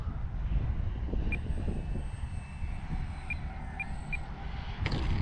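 HobbyZone Carbon Cub S2 RC plane flying on a very windy day, its small electric motor a steady thin whine over heavy low wind rumble on the microphone, with a brief clatter near the end.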